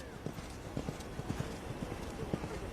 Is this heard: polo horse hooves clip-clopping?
yes